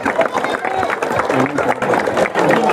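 An audience at a school annual day claps steadily in a dense, continuous patter of applause, while a voice speaks over it.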